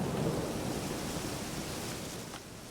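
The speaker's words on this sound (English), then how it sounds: "There's been a storm this whole time" Thunderstorm in the video game Witcher 3, a steady, loud wash of heavy rain and low rumbling thunder filling the scene without any voices.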